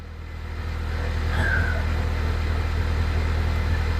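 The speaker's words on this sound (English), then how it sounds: "I started the car up" A car running just after start-up, a 1.4t engine swap with a fuel pump circuit fault, gives a steady low engine rumble at moderate level with a brief higher whine near the middle and no talk.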